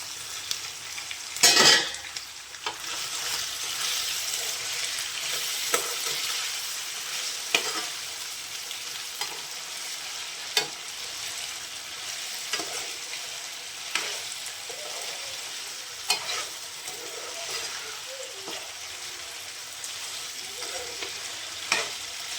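Chicken fries in a pan for chicken fry, a constant sizzle punctuated by repeated spoon scrapes and clinks as it is stirred, close and without talk.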